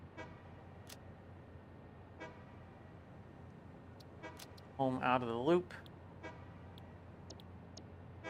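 A train horn in the Satisfactory factory game honks in a loud, short tonal blast over quiet machine hum, with faint clicks around it and brief talk elsewhere.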